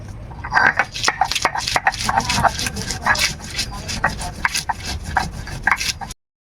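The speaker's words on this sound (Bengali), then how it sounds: "কটা কাঁচা লঙ্কা বেটে নেব।" Green chillies are ground, giving rhythmic rough scraping and rubbing strokes, close and fairly loud, repeating in quick bursts with a voice talking over parts of it.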